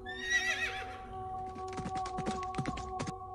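A horse whinnies loudly near the start, followed by a run of irregular hoof clip-clops on hard ground, with steady tonal hum running underneath.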